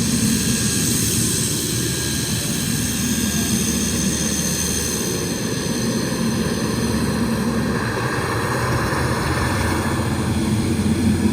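Small light airplane in flight with its door open, a loud steady roar of engine and rushing wind filling the whole stretch without a break.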